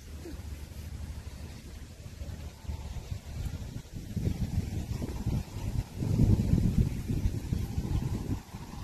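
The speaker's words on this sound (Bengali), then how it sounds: "আর আজ হাওয়া মেলেছে এত সুন্দর।" Low rumbling wind blows across open fields and buffets the microphone in gusts, swelling stronger in the second half, with a soft rustle underneath and no voices.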